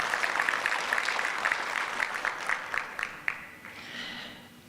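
Conference audience applause, a brief scattered round of claps at moderate distance that thins out and fades within a few seconds.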